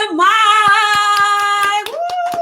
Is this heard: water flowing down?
no